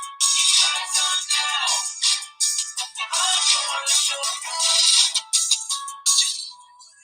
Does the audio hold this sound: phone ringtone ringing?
yes